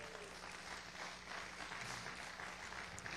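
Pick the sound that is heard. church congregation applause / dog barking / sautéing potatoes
church congregation applause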